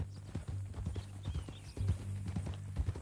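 Horse hooves clip-clop in steady rhythm through a Red Dead Redemption 2 game scene, close and fairly loud under low background sound.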